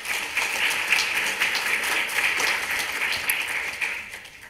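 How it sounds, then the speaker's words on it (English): Conference audience applause, steady dense clapping filling a hall for several seconds before tapering off slightly at the end. "they deserve a hand of applause for that matter"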